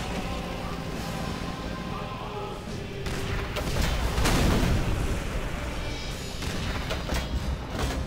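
Heavy artillery shells fire and explode in the WWII shooter Call of Duty: World at War, with loud booming blasts and rumbling impacts that build to a peak midway through a dense battle din.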